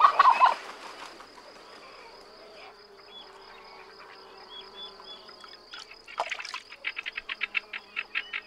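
Farmyard turkeys gobble in a sharp burst at the start, then quieter calls follow, ending in a rapid series of rhythmic clucking pulses, with a steady insect-like buzz running throughout.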